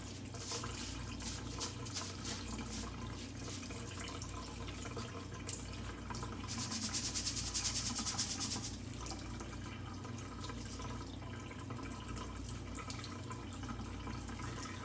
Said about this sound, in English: I'm just going to run it under some cold water for a minute.